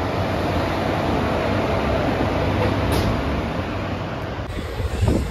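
An Aronai Express passenger train pulls into a Kerala station, a loud continuous rumble of wheels and carriages rolling close by with a steady roar, a brief high squeal midway and rising clatter near the end.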